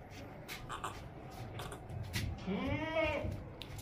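A ram bleats at a livestock market, one wavering cry rising and falling over a murmur of background voices and crowd noise.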